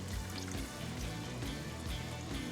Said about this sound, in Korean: 그리고 물 넣어주세요.